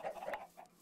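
Chickens in the video game Crazyland give a brief burst of soft clucking, a few quick close bwok-like notes in a row.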